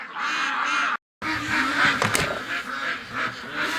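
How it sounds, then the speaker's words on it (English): A flock of winter ducks calls loudly and continuously, dense honking and quacking filling the air, broken by one brief silent gap before the chorus resumes. "these ducks kill me. As soon as they heard me open the door"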